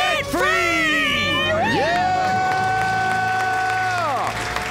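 A studio crowd screams and cheers together in a loud, sustained debt-free celebration, with high whoops and shouting voices that hold for several seconds.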